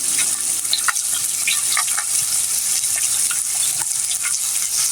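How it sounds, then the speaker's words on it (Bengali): Dela fish and onions seasoned with turmeric, chili and salt fry loudly in a pan, a dense continuous sizzle broken by light scraping stirs. "তো পেঁয়াজটাও এখন ভাজা হতে থাকবে।"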